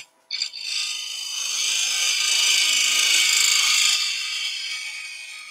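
A skew chisel rubs its bevel and slices into wood spinning on a lathe, making one continuous close hiss that swells and then eases off after a brief starting thump.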